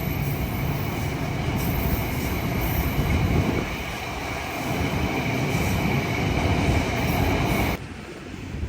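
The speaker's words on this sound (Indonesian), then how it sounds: "karena ada kereta nih." A train rolls past a rural station at Tarik, a loud, continuous rumble of wheels and carriages close by, with faint squeals above the roar, easing slightly near the end.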